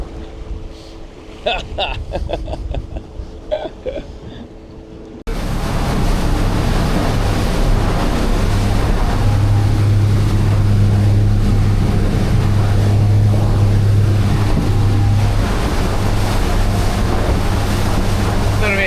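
Boat running through a 4 metre ocean swell off King Island, with steady loud engine drone and a constant low hum under heavy wind buffeting the microphone and wave wash, after a quieter stretch at the start.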